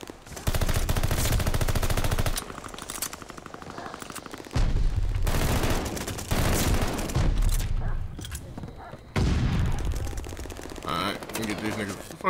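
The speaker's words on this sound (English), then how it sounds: "He's shooting" Call of Duty Vanguard multiplayer gunfire: rapid automatic bursts from an MP40 and other weapons, loud and close, arriving in several long volleys with short pauses between them.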